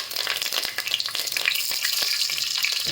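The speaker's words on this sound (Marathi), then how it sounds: "आता याच्यामध्ये कढीपत्ता टाकून" Curry leaves sizzling in hot ghee or oil for a prawn rice dish, a bright crackling hiss with sharp pops and spatters, close and continuous throughout.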